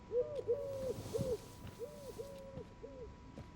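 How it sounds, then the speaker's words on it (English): A dove or pigeon coos in the game Life Is Strange, a run of about six soft, evenly spaced hooting coos repeating in a steady rhythm, close and clear over faint background hum. "That pigeon, I think it's a dove or a pigeon."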